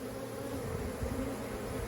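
A honeybee swarm in a home beeyard gives off a dense, steady hum of many wings, close and continuous with no breaks, faint but even throughout.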